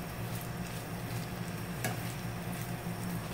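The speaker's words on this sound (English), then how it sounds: "now I'm caramelizing my onions" Onions caramelize in a pan, giving a soft, even sizzle that runs without a break, with one brief brighter crackle midway. No one speaks.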